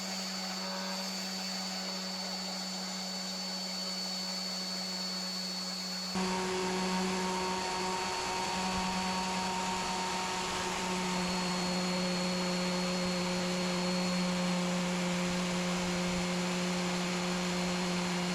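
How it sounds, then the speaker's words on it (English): An electric sander works on pallet wood with a steady motor whine that grows louder and rougher partway through, droning on without a break. "You grab the sander and you just lock it in if you can."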